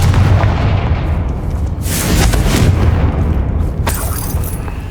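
A Confringo blasting spell from Hogwarts Legacy bursts in a loud, booming explosion, its rumbling roar rolling on for several seconds with sharp crackling flares partway through and near the end.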